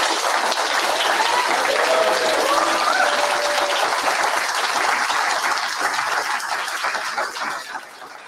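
A conference audience applauding a product team, dense sustained clapping from a large crowd filling the room for about seven seconds before thinning and fading out at the end.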